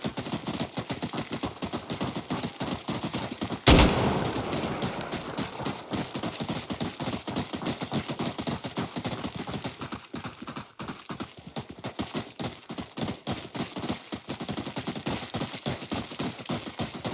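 Automatic gunfire in an Insurgency Sandstorm multiplayer firefight rattles in rapid, sustained bursts, with one sharp loud blast early on and steady shooting continuing to the end.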